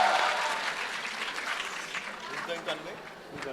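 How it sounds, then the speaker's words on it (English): Audience applauding the Baahubali team and Westland at a book-cover unveiling at the Jaipur Literature Festival, clapping loudest at first and then thinning and fading, with scattered voices in the room. "let's have a round of applause for the Bahubali team and Westland"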